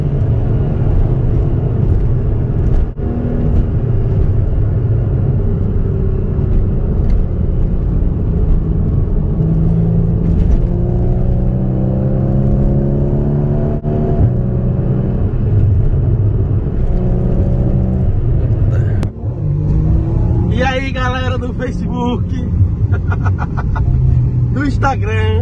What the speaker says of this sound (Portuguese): eu tô aqui com uma máquina, aqui com um Porsche.